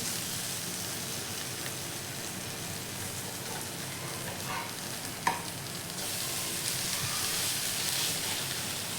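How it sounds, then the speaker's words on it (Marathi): A palak paneer dosa roasts on a hot pan with a steady, rain-like sizzle and one brief spatula tap midway, close and even in level, no voices. "आता हे व्यवस्थित आपण भाजून घेऊया दोन्ही बाजूने"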